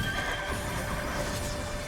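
A horse in the game Honkai: Star Rail gives a short neigh, a brief whinny over a dense steady game backdrop with no voices.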